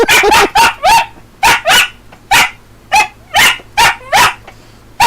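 A small dog barks excitedly in a rapid run of about a dozen close, loud yips and barks with brief pauses between bursts.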